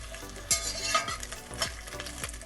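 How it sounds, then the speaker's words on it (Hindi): Chopped onion and bell pepper being stirred in a hot pan while cooking black pepper chicken: steady sizzling frying with a few distinct scraping stir strokes, close and clear, no talk. "डाल देंगे प्याज और शिमला मिर्च, इसको हिलाते हैं अच्छे से"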